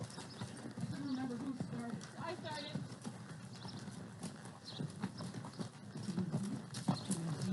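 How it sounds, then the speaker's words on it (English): Steady clip-clop of horse hooves at a walking pace on a ranch, fairly close, with people talking over it and occasional birds in the background. "I want the horse just to walk. A faster walk."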